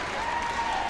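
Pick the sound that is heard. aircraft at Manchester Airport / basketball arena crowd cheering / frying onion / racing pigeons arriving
basketball arena crowd cheering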